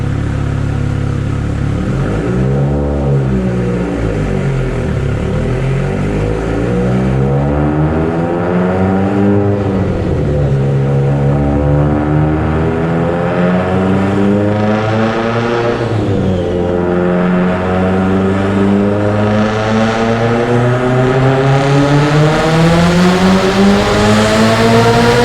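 Mitsubishi Evo X engine with an unsleeved block, Manley H-beam rods and Wiseco pistons, revving hard through repeated climbs and gear changes on a test run, loud and close throughout with no talk.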